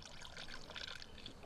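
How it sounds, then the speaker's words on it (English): Coolant, a 50/50 antifreeze mix, pours into the reservoir of a Chevy truck, making a steady close liquid splash and trickle that runs for the whole stretch without a break. "So we pour it right in there in the reservoir, just like that."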